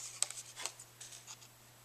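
Scissors cutting paper for a mini album box, a few faint, close snips and rustles over a low, steady background hum.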